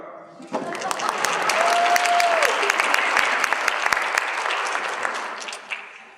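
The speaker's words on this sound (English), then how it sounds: "You can clap." Audience applause at a live product pitch event, a broad steady wash of clapping that swells in and holds for several seconds, with a whistle-like tone and brief voices mixed in.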